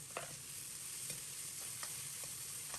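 Pork slices stir-fried with ginger, garlic and chili in a wok over medium heat, a steady oil sizzle with a few light scraping strokes of a spatula, close and continuous, no voices.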